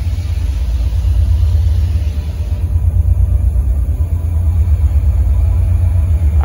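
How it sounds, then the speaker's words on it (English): An engine running with no air filter fitted and reportedly no compression gives a loud, steady low rumble that holds at a constant idle throughout, with no voices over it. "Every second that this engine has been running, it's been without an air filter."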